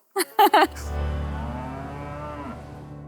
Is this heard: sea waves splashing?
no